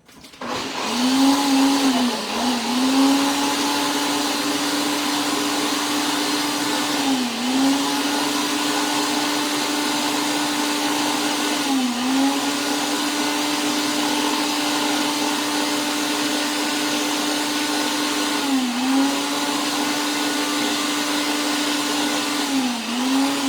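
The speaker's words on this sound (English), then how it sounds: "So now I've got this ready to blend. We're gonna make it puree" A blender purees stewed ingredients for a low carb BBQ sauce, its motor whirring loud and steady throughout with brief dips in pitch every few seconds as the contents churn.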